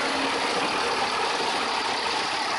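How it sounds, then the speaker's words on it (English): A Ford 6.9/7.3 IDI diesel engine idles rough nearby, giving a loud, steady, noisy drone with no talking over it. "if you let off, it's back to idling very rough again"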